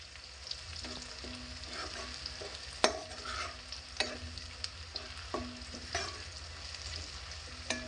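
Green chillies frying with browned onions in a pan for a cauliflower kofta curry: a steady low sizzle close by, punctuated by repeated sharp scrapes and taps of the spatula as the mixture is stirred.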